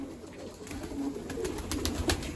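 Pigeons coo softly in a group, low repeated calls at close range over a steady background hum, with no talking.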